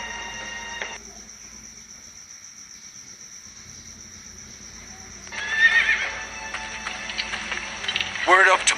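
Horse neighing and hooves in a Game of Thrones video game scene, a loud whinny rising midway over a steady insect-like background hum, with clip-clopping hooves and character dialogue around it.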